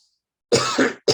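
Two quick, harsh coughs close to the microphone, separated by a brief pause, with silence before them.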